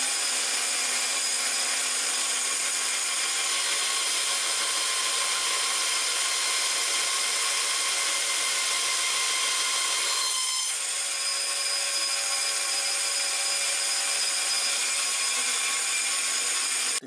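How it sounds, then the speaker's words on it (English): A saw cuts through the steel of a kitchen knife blade, producing a continuous, loud, harsh grinding rasp that holds steady for the whole stretch, with a brief dip partway through before it resumes. "So I'm just going to use the saw here and cut most of this off"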